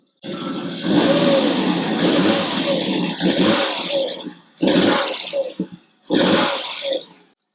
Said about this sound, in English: It's beautifully sweet, this engine.